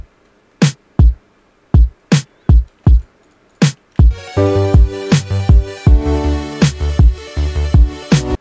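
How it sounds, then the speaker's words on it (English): Electronic kick and snare drum pattern for a game outro track, starting as sparse isolated hits, then joined by a full synth-backed loop with the steady kick and snare continuing on top. "I did drums and I started with the kick and the snare"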